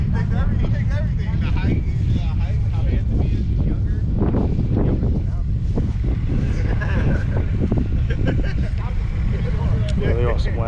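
Steady wind gusts outdoors at a Boxerfest gathering of classic cars, a continuous low roar buffeting the microphone, with someone talking over it throughout.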